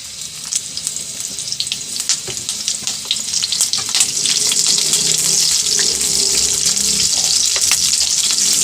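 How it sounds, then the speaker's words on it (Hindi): Green chillies hitting hot oil for tali hui mirch, with crackling that builds into a loud, dense sizzle and sharp spitting pops throughout, no voices. "ऑयल गरम हो गया है, ये देखिए हरी मिर्चें डाल देते हैं।"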